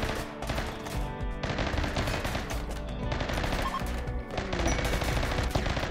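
Gunshots in the video game Rimworld ring out in dense, overlapping volleys with short pauses between them. The shooting runs loud and almost continuously.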